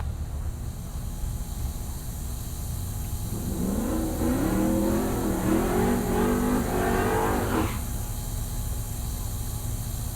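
A street-driven Jeep on slicks and skinny front tires runs at a drag strip at Heartland Park Topeka. Over a steady background rumble, an engine revs up for a few seconds, rising in pitch and then cutting off sharply.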